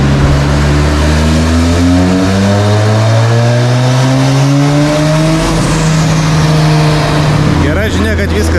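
A drift car being readied for D1 Grand Prix, started after standing idle for two years, revs on a dyno stand: a loud engine climbs steadily in pitch over several seconds, then drops off, with a short burst of noise at the end.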